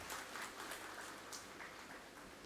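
An audience applauds a visiting dignitary at Deepalaya's 47th Foundation Day celebration, a steady, faint wash of many hands clapping heard from a distance for a couple of seconds.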